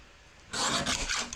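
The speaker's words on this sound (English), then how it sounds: "I'm going to use my little mini trimmer" A small mini paper trimmer blade slices through cardstock, giving one short, close rasping scrape of about a second that starts abruptly and trails off, heard alone without talk.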